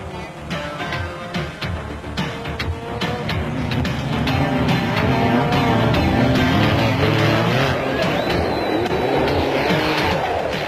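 Off-road race vehicles from four-wheel and two-wheel classes thrash through a round-the-houses event at the 1990 Roof of Africa race in Lesotho, engines roaring loudly and continuously as they pass close by, with no talk.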